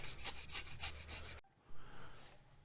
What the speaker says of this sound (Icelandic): það er að slípa þessa blessuðu blokk